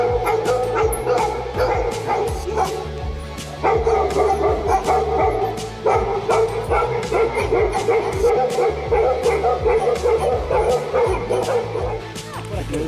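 Dogs barking and yipping at a bear walking through city streets, with steady overlapping barks and whimpers throughout amid background noise and some voices.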